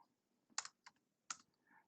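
Typing on a computer keyboard: a few sharp, close key clicks in quick bursts, faint and sparse in an otherwise quiet room.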